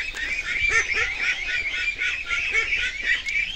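Domestic ducks and chickens on a small rural poultry farm in Bangladesh call together, with steady overlapping honks and clucks throughout and no talk.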